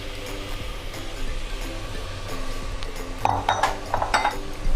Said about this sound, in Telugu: మటన్ ముక్కలను తీసుకొని కుక్కర్లో వేసుకోవాలి